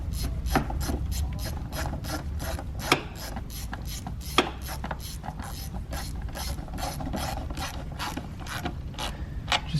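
A hand ratchet clicks in quick steady bursts as it snugs down the valve cover bolts on a Ford Fusion engine, close and fairly quiet, with a couple of sharper knocks between the runs and no talking.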